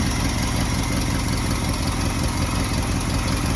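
A 1966 Ford F100 pickup truck engine idles steadily up close, a constant loud rumble with no variation and no other sounds.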